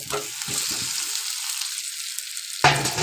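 Fried carrot and potato hit hot spiced masala, giving a loud close sizzle that softens and fades before another sharp burst of frying and stirring near the end.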